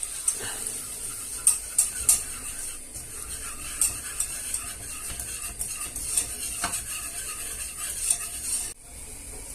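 A butter and flour roux cooks in a pot for endives with ham, with steady stirring scrapes and a soft sizzle running throughout, occasional sharper utensil knocks, fairly quiet and close, no voices.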